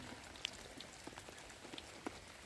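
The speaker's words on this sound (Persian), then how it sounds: "بارون داره" Rain falls steadily outdoors, where people are without shelter, with scattered drops tapping and pattering over a constant soft hiss, fairly faint, and no talking.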